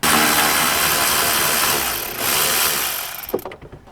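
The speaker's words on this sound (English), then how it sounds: "I got my impact ratchet to speed things up a little bit." An impact ratchet spins screws out of a 2014-2019 Cadillac CTS sunroof shade assembly, giving a loud, steady mechanical whirr for about three seconds before it cuts off and a few clicks and clanks follow.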